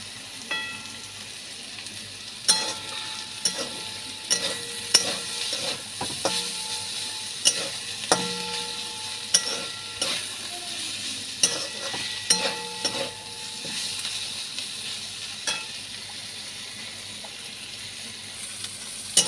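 Ivy gourd (kundri) fries in oil in a pan while a spatula stirs it, with repeated scraping strokes over a steady, close sizzle and no talking.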